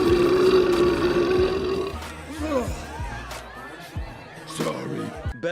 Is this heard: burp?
yes